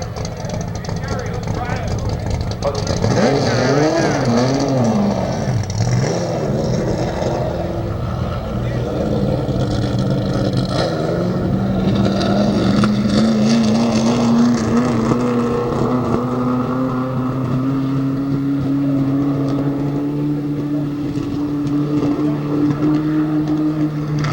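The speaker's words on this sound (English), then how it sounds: "And here comes the 73 car of Terry Weatherford" Number 73 stock car pulling into the pits at Rockford Speedway during a 1982 pit stop championship, its engine a loud, steady drone that climbs gradually in pitch over a busy, noisy background where voices are heard.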